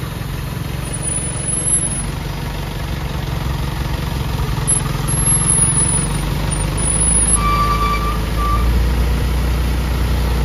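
A self-loader truck's engine runs its power take-off with a steady, close, low rumble throughout. A few thin, high-pitched tonal beeps or whines sound faintly above it.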